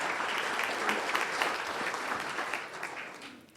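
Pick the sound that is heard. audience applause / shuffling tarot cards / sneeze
audience applause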